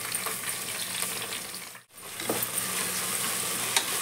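Fenugreek and fresh coriander leaves frying in a pan for mutton keema sambar give a continuous close sizzle with scraping stir strokes, broken by one short near-silent gap midway before the hiss resumes.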